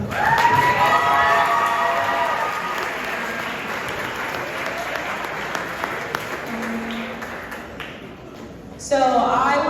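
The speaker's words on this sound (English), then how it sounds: "So a round of applause for them" A room at a high school sports banquet breaks into loud applause and cheering that starts strong and slowly thins, with a few shouts. A voice starts talking near the end.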